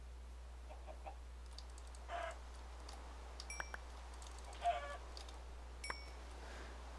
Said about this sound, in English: Another chicken.